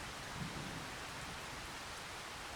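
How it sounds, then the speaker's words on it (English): Steady, dense rainfall in the farming game Farming Simulator 25, a continuous even hiss of rain without pauses or voices, constant in loudness throughout. "We'll see you next time when the rain stops."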